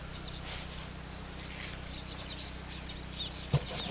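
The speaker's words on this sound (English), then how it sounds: "Can you hear the birds?" Birds in natural surroundings at a villa building site, heard as faint, scattered chirps and calls over a steady low hum, with a brief louder knock near the end.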